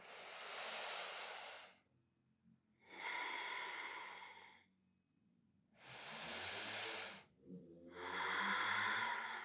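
Deep abdominal breaths during a relaxing yoga session, four long airy inhales and exhales in a slow steady rhythm, close and soft with quiet pauses between.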